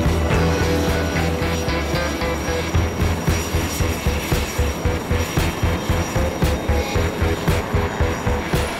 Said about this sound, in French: Tandis que sur le pont se succèdent les rotations d'hélicoptères